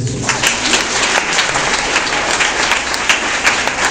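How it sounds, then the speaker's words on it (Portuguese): A church congregation claps together in steady, dense applause that fills the room, loud and continuous throughout with no voices standing out. "Dá uma salva de palmas para Jesus."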